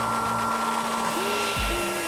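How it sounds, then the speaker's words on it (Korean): A hair dryer blows in a loud, steady whoosh drying wet socks indoors, a constant motor whine with airy rush, joined partway by faint electronic tones in the background. "드라이기가 필요하겠어요."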